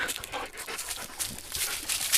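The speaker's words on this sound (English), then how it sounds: "I gotta give these dogs some food at some point because that's why they like me" Dogs pant close by in quick, steady breaths that continue for the whole stretch, with no talking over them.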